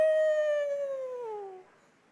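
A voice imitates a lone wolf howl, a single clear sustained note that slowly slides downward and fades out after about a second and a half, alone in quiet.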